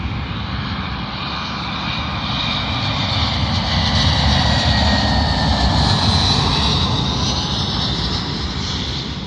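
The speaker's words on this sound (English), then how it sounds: "Arriving in now is a British Airways A320 working a service from Brussels to London" British Airways Airbus A320 arriving at London Heathrow runway 27L from Brussels, a steady jet engine roar with a faint high whine, loud and continuous throughout with no voices.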